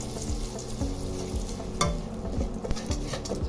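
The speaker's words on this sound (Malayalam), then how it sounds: "എണ്ണ ചൂടായി. നമുക്ക് കുറച്ച് കായ ഇട്ട് കൊടുക്കാം." Asafoetida powder drops into hot oil in a pan, setting off a bright, crackling sizzle with repeated stirring scrapes in a steady rhythm, close and alone.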